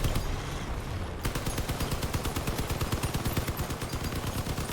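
Rapid automatic gunfire in the vehicle combat game Crossout, a fast, steady stream of loud, evenly spaced shots that starts after a brief lead-in of engine and battle noise and continues to the end.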